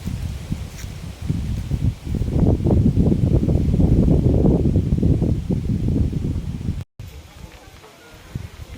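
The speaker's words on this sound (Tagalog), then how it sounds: "Lakas ng hangin dito." Strong wind buffets the microphone in rough low gusts on a farm, with rustling underneath, then drops off abruptly to quieter background.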